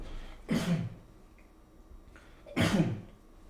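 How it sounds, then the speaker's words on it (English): Two loud, rough throat clearings about two seconds apart, close to the microphone, with quiet room tone between them. "I gotta clear my throat before I do a song"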